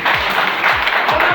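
Loud, close applause from an audience at a business seminar hall, brisk overlapping claps with a few heavier thuds, filling the whole brief moment.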